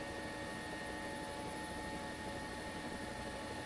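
Helicopter flying in the video game War Thunder, a steady, even rotor and engine drone with a constant whine, alone and unbroken throughout.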